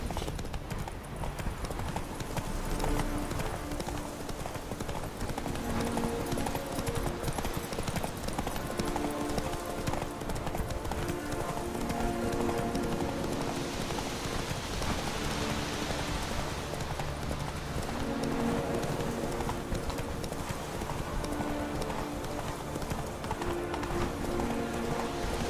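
Horse hooves galloping in The Witcher 3 video game, a rapid, continuous clip-clop rhythm at close range under rain-like ambience, with faint game voices.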